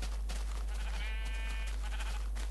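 A Minecraft sheep gives a single drawn-out, wavering bleat lasting about a second, fairly loud over a constant low hum.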